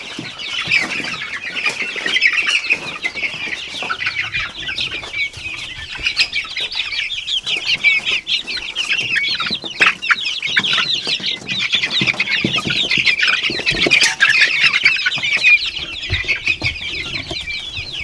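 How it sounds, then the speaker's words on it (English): A crowd of chicks cheeps nonstop in a brooder, dense overlapping high peeps close up with occasional rustling and wing flutters, loud and busy throughout without any talking. "I'll give you an update here on the chicks in the brooder"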